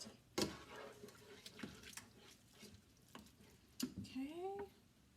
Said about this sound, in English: now really scrape the bottom of the pan